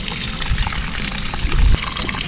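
Water gushing out of a 1000-liter tank as it is opened and drained, a steady broadband pour with a louder surge near the end, no voices.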